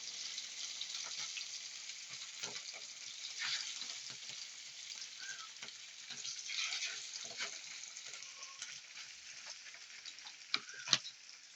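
Mackerel fish frying in coconut oil, a soft continuous sizzling hiss with scattered light pops and crackles, fairly faint and steady throughout, no voices.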